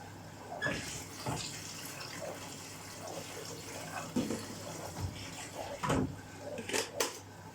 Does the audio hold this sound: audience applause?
no